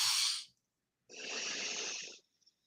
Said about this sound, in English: Let's inhale for 4